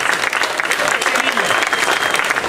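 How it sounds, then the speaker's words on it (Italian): Sustained applause from an audience at a festival presentation in Brivio, dense and even clapping filling the whole stretch at steady loudness, with faint voices mixed underneath. "Fategli un applauso per favore."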